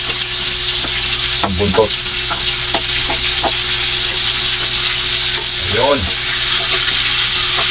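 Milkfish (bangus) frying in oil in a pan, a loud continuous crackling sizzle throughout, with someone speaking briefly over it twice.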